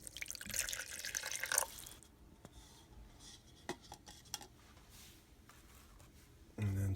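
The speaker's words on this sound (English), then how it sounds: "You're going to put your water in first." Water is poured into a container before hydrocal plaster is mixed in: a short splashing pour at the start, then quiet scattered clinks and handling noises, ending with a sudden low bump.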